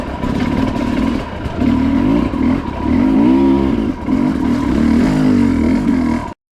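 A 2022 Sherco 300 SE Factory dirt bike engine revs loudly up close as the clutch engages, its buzzy two-stroke note rising and falling through several throttle blips before cutting off abruptly.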